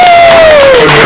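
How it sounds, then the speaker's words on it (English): Party guests at a surprise birthday party break into a brief, loud burst of crowd cheering, with a high voice or whistle-like tone sliding down through it. "Give yourself a big round of applause."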